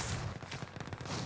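Bursts of rapid gunfire in Warzone rake the player, a dense rattle of overlapping shots lasting about a second with no voices over it.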